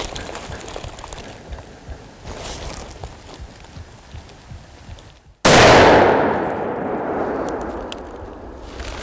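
A single loud, close muzzleloader rifle shot fired at a deer in the woods, a sharp blast followed by a long fading rumble after a stretch of quiet outdoor rustling.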